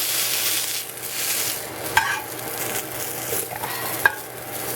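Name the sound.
spicy sausage frying in fat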